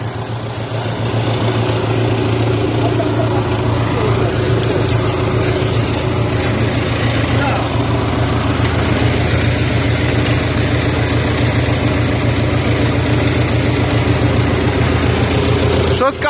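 A tractor engine ploughing a field, a loud, steady low-pitched drone that runs throughout and close to the microphone, with talk partly audible beneath it.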